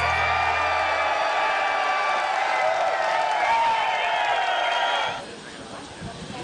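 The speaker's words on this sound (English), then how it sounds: "crowd goes nuts." A crowd at a disc golf tournament cheers and applauds loudly, a dense steady roar that holds for about five seconds before cutting off to quieter background noise.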